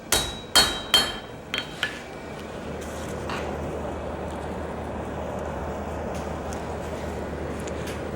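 Hot steel is forged with a hammer on an anvil at a blacksmithing conference, about five loud ringing blows in the opening two seconds followed by a steady low background roar.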